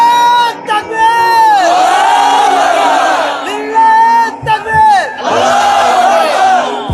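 A crowd at an Islamic religious gathering (mahfil) shouts the takbir in unison, three loud, sustained chanted bursts separated by short pauses, with strong, close, massed voices.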